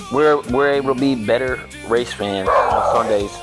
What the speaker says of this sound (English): Y'all have to excuse my dog.